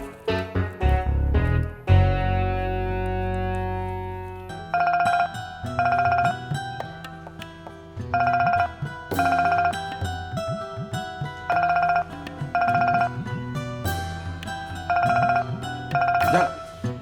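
A mobile phone ringtone plays a loud, repeating melodic chime pattern in regular bursts over a sustained tone, running throughout with faint voices underneath.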